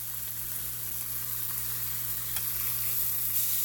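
Beef sizzles steadily in a pan for sub sandwiches, a close, even frying hiss with a constant low hum underneath and no pauses.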